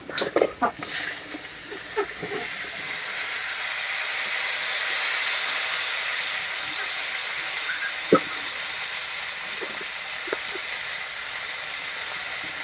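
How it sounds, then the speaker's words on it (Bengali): Chopped bitter gourd and potatoes go into hot oil on top of already-fried onions, with a brief clatter at the start and then a steady, bright sizzling hiss that carries on with a few faint clinks and no talking. "এই যে আগে থেকে কুচিয়ে রাখা উচ্ছে আর আলুগুলো দিয়ে দেবো।"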